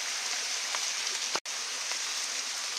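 Continuous rain falls on a tarp at a wet bushcraft camp, an even close hiss with a brief thud and a momentary dropout partway through, and no voices.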